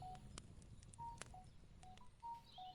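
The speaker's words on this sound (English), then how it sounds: "That was my phone going off" A mobile phone going off with a string of short, evenly pitched electronic beeps in an irregular pattern, faint and alone in a quiet room.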